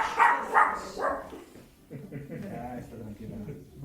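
A dog from Ukraine whimpers and yips in a few short, fairly loud bursts close by, then people talk over low background noise.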